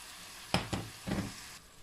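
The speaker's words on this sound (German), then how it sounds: "Jetzt werde ich das Ganze umrühren und nochmal circa 4 Minuten braten." Carrots and beef sizzling in a pan as they are stirred, a couple of brief scraping bursts over a steady soft frying hiss, close and alone.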